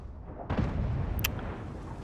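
An artillery shell explodes in a tank battle game with an Object 260 heavy tank: quiet at first, then one sudden loud boom that rolls into a rumbling decay, with a brief sharp crack partway through.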